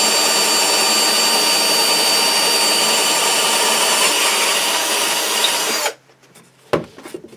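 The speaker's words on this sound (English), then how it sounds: "we've just got our extra long drill bit here. This is an aircraft grade one" An extra long aircraft-grade drill bit bores through a custom bass guitar body, a steady loud power-drill whine with wood grinding for about six seconds, then stopping abruptly, followed by a brief knock and quiet handling.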